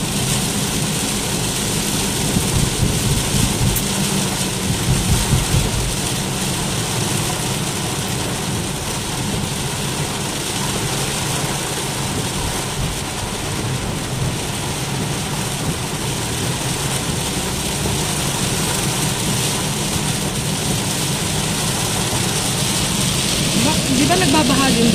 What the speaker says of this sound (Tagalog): Ang lakas pala ng ulan din nga.